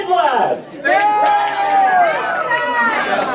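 Wedding guests at a reception scream and yell together in a loud, sustained crowd roar, with whoops rising after a brief dip and carrying on steadily.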